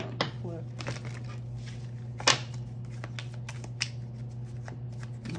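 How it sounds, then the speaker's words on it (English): Small tarot deck being shuffled indoors, with a series of soft card riffles and sharper snaps over a steady low hum, several distinct flicks standing out near the middle. "it's a little hard to shuffle these"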